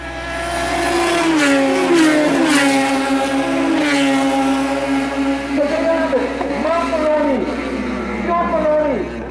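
A Radical SR3 race car accelerates hard up the straight at a Trinidad club race, its high-revving engine climbing loudly through the gears with sharp shifts, other engines nearby and a commentator talking over it.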